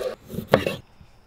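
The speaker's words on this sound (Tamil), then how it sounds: "இந்த பச்சை மிளகாவும் 2 கீரி வைங்க." A knife slits green chillies in a kitchen, giving a few short cutting and tapping sounds close up, with one louder knock in the middle before fading to quiet.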